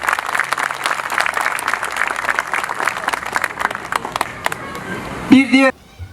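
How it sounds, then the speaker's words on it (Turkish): Crowd applause at a municipal gathering of neighborhood heads, dense clapping for about five seconds before ending in a short burst of voice and a brief electronic warble. "Siz de onlara kocaman bir alkış gönderin."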